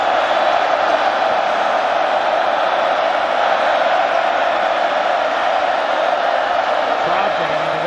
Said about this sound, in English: Crowd getting into this.